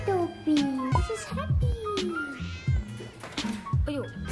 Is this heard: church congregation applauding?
no